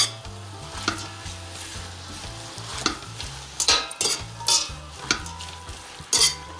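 Spinach is stirred and sautéed in a pan while a spinach börek filling is prepared, giving a steady close sizzle broken by repeated scraping strokes and soft utensil clinks, with no talk.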